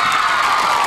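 Junior college students in a crowd cheer and whoop loudly, a dense, continuous roar of many voices filling a brief burst with no break.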